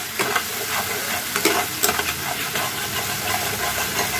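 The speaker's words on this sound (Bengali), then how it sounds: "সর্ষেটা হালকাভাবে দেখুন একটু একটু ভাজা ভাজা হয়ে গেছে" Mustard seeds with a little turmeric fry lightly in a pan, giving a continuous hiss and crackle with scattered sharp pops and occasional stirring scrapes.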